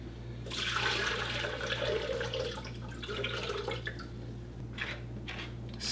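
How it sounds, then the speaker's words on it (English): Young coconut water being poured into a green drink in a kitchen, a soft splashing, trickling stream of liquid that runs for a few seconds and then gives way to scattered drips and small splashes, quiet and close. "Okay, I've gotten to the young coconut now. Got the top off. So I'm going to go ahead and pour that in."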